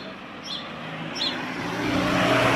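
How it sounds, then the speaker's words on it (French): On a city street in Rouen, cars pass by at close range, a broad whooshing road noise that rises and swells as vehicles go by, with faint high chirps early on. "on laisse passer les voitures"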